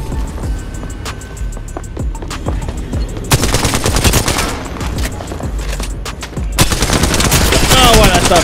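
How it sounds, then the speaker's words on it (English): Sustained automatic gunfire in Apex Legends, loud and close, with dense rapid bursts that swell in the second half. Brief bits of talk may sit underneath. "Stop shooting."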